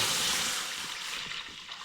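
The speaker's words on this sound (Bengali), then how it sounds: "5 লিটার জল দিয়ে দিলাম।" Water poured from a container into a wok for cooking noodles, a loud rushing splash at the start that tapers to a softer trickle and slosh, close and alone with no talk.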